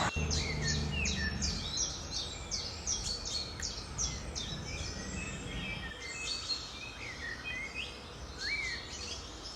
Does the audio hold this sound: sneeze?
no